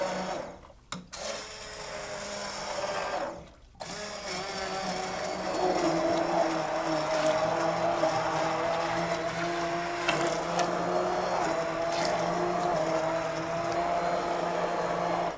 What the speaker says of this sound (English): My favorite cooking toy, my immersion blender.